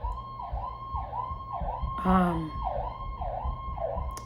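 A wailing emergency siren rises and falls in a steady repeating cycle, fairly distant, with a brief burst of another sound midway.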